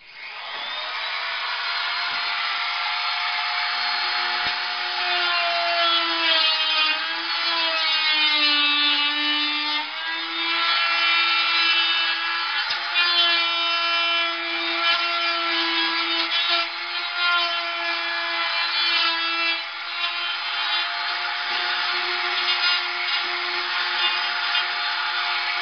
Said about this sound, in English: Just like a mini router. You can one-hand it almost.